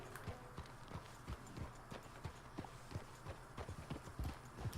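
Horse hooves clip-clop steadily as a rider travels in Red Dead Redemption Online, a quick, even, close rhythm of light thuds at low volume with little else around it.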